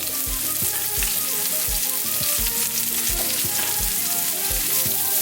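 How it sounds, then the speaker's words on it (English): Garlic and carrots fry in a pan with a loud, continuous close sizzle, broken by regular low thumps from stirring. No one speaks. "Just fry that a little bit."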